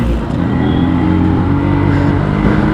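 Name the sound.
Yamaha RX100 motorcycle accelerating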